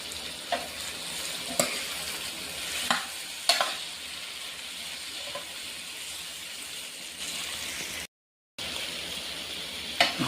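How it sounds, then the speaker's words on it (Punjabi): Coarsely chopped pumpkin is stirred in a spiced pan, frying with a soft steady sizzle under repeated scraping clatters of a spoon against the pan, fairly quiet and close, with a brief dropout near the end. "ਹੁਣ ਆਪਾਂ ਇਹਦੇ ਵਿੱਚ ਐਡ ਕਰਾਂਗੇ ਜੀ ਮੋਟਾ ਕੱਟਿਆ ਹਲਵਾ ਹਲਵੇ ਨੂੰ ਆਪਾਂ ਚੰਗੀ ਤਰ੍ਹਾਂ ਲਾਵਾਂਗੇ ਜੀ"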